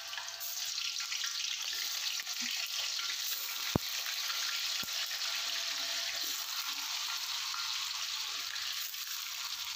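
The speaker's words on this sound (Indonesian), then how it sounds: "Minyaknya sudah panas, kita goreng tahunya dulu ya teman-teman." Tofu frying in hot oil gives a steady, close, broadband sizzle that stays even throughout, with a couple of sharp clicks from utensils and no talking.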